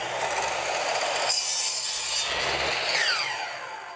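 A saw cuts shaped ends on wood for memorial crosses, producing a continuous close, loud rasping and whining with a brief shift in pitch midway, then tapering off at the end.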